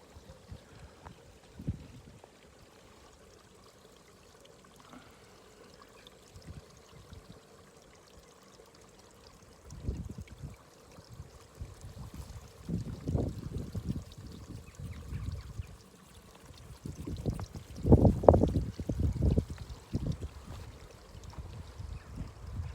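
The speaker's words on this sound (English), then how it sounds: "we have the outflow of the big pond, so we have 7 little ones dropping down. You can hear the flow between those." Water from a big pond's outflow runs down through a chain of seven small ponds, a soft continuous trickle with louder splashing bursts building toward the middle and end.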